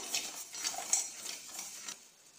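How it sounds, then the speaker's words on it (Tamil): Rice grains roasting dry in a heavy-bottomed pan for puffed rice laddu, giving a close, busy rattle of light clinks and scrapes as they are stirred and tossed. "இந்த மாதிரி ஒரு அடிகனமான பாத்திரத்தில் அரிசியை போட்டு நல்லா பொறிச்சு எடுத்துப்போம்"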